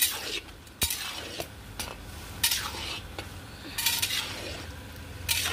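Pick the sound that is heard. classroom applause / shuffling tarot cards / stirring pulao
stirring pulao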